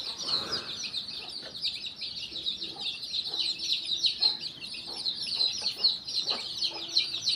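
Backyard chickens, including a white hen with her chicks, cluck and peep softly against a constant high insect-like hiss outdoors, faint and steady, with brief murmurs of a voice.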